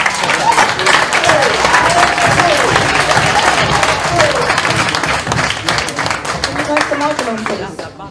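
An audience at a lecture claps and applauds loudly and continuously, with crowd cheers and shouts mixed in, tapering off toward the end.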